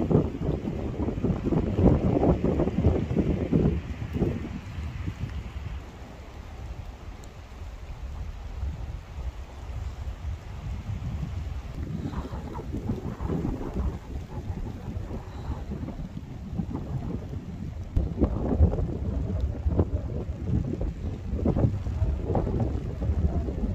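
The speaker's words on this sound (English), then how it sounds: "since that wind's kicked in, the temperature out there has dropped" Strong wind buffets and roars around a tent at a campsite in rain and wind, rising and falling in heavy gusts with rumbling microphone buffeting throughout.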